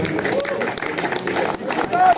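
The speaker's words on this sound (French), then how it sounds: "On peut les applaudir." An outdoor audience at a carp fishing enduro applauds an angler at post 47 with a steady patter of clapping and crowd murmur, while an announcer speaks.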